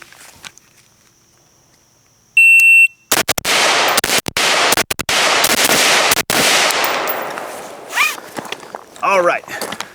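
Several sharp, loud rifle shots fired from a firmly mounted gun, coming as irregular single reports over a few seconds and preceded by a short electronic beep, with some rustling and handling noise between the shots.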